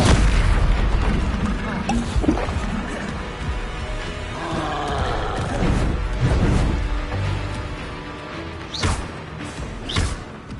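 Bombarda explosion spell in Hogwarts Legacy combat: a series of booming blasts and crashes, with two sharp bursts near the end, set in busy battle noise with game voices and other spell effects.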